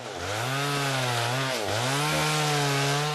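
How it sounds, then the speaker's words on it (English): A chainsaw roars continuously in the Amazon forest near a remote logging road where illegal loggers fell a cedar, loud and close, its pitch dipping and rising as the engine loads and revs, with no voices. "Off to our right, the unmistakable roar of a chainsaw."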